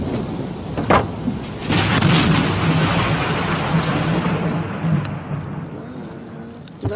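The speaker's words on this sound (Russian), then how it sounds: "Вон грозовые-то над хатой понависли." Thunderstorm over a village house in May: steady heavy rain with a loud rumbling roll of thunder rising early and fading out, a sharp crack near the start.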